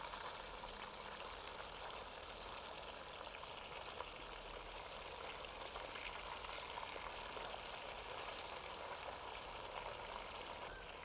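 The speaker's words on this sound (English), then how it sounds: "So I am lightly frying the fish" Fish frying lightly in an earthenware pot for a Kerala-style fish stew, a steady broadband sizzle and hiss that holds at an even, fairly faint level throughout without pauses or talk.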